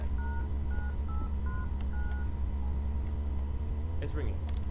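Telephone keypad tones dial a number in a row of short, evenly spaced beeps, fairly close and clear over a steady low rumble.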